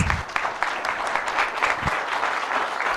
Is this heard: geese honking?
no